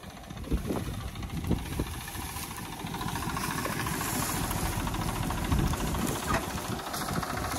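A tractor engine rumbles steadily at close range with no one at the wheel, a continuous low chugging drone with occasional knocks that grows slightly louder as it moves.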